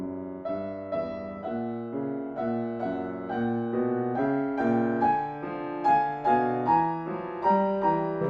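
Piano plays only the outer voices of the cadenza from Beethoven's First Piano Concerto, a clear close melody and bass line moving in steady notes, unaccompanied by speech.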